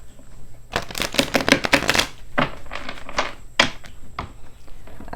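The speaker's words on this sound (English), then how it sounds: "One more shuffle." A deck of tarot cards is shuffled close up in rapid riffling bursts, a quick flurry followed by a few shorter shuffles and soft taps, with no talking.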